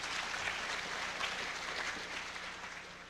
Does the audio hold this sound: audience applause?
yes